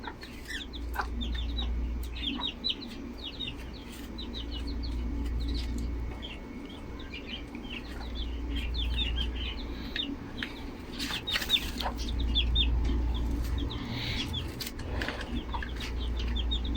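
Backyard chickens cluck in soft, scattered bursts alongside a rooster, with small chirps and occasional wing flaps over a steady low hum, continuous and moderately close throughout.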